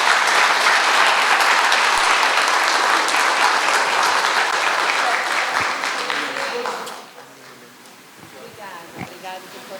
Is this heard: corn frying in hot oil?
no